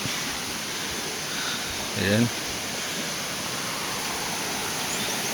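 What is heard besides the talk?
strong river current flowing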